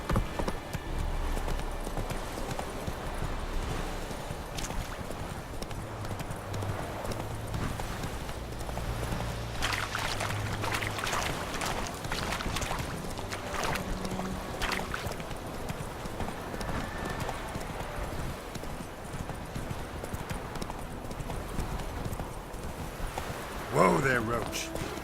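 Hooves clip-clop steadily as Geralt's horse Roach runs in The Witcher 3: Wild Hunt, a continuous rhythmic trot under game ambience and voices, ending with a brief whinny.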